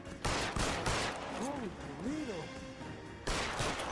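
Gunfire in the L.A. Noire video game, a few sharp shots among game sounds, while someone talks over the action.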